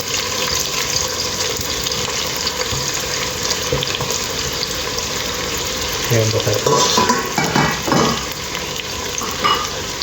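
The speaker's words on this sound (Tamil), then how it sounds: "பட்டை ஏலக்காய் கிராம்பு இலை எல்லாத்தையும் போட்டுருவோம் போட்டு நல்லா கலப்போம்" Cinnamon, cardamom, cloves and bay leaf fry in hot oil for mutton biryani, a steady loud sizzle running throughout with stirring clatter and scraping building in the second half, no voices.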